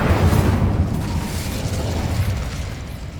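A fire spell erupts in Hogwarts Legacy, a dense, loud burst of rumbling flame that swells at the start and roars on steadily, slowly fading over a few seconds.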